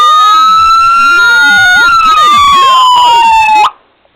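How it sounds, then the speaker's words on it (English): Electronic siren on a custom diecast Dodge Charger Pursuit Michigan State Police model, loud and close, sweeping in a steady wailing tone with pitch glides before it cuts off abruptly near the end. "Same electronic siren that's in all the builds."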